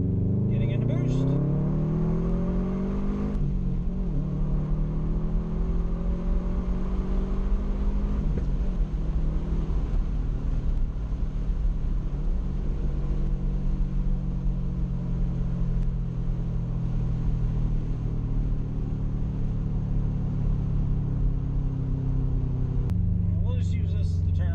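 Subaru STi on new wheels and tires, heard from inside: a loud, low engine drone that climbs and falls in pitch through several pulls as the car accelerates into boost, with a steady road rumble underneath.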